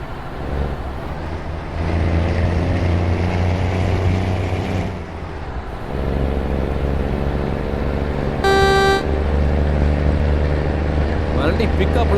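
A heavy truck engine in Euro Truck Simulator 2 drones steadily and pulls harder as it gains speed, loud and continuous, with a brief horn toot partway through and talk over it.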